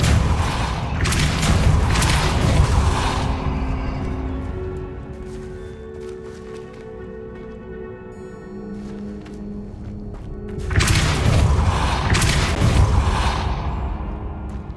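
Spell blasts cast in the video game Hogwarts Legacy: two heavy booming bursts, one at the start and another near the end, with a lower rumbling, tonal stretch of game sound between them and no talk.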